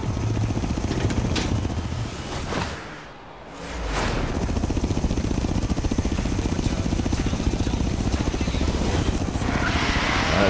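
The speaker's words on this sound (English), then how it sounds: "That copter looks like Blackout from Transformers." A helicopter in the racing game Forza Horizon 3 throbs steadily with a rapid rotor chop and engine drone, briefly dipping before returning loud and close.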